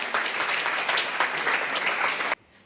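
A working men's club audience gives a loud, dense round of applause during a club show, sustained clapping filling the room before cutting off suddenly into quiet.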